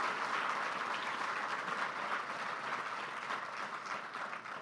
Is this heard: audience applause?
yes